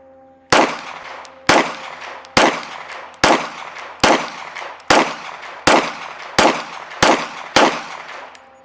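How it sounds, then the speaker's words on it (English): Ten sharp pistol shots from a Walther PDP frame fitted with a TP9SFX slide and PDP Pro magazine, fired at a steady rhythm about one per second, each loud close report trailing into a brief ringing echo. "Fired all 10. Slide lock back. Ran perfect."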